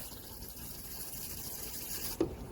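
Water poured gently into a Jackson chameleon's tank at a reptile zoo, a soft, steady trickle running the whole time at low volume with a small splash near the end.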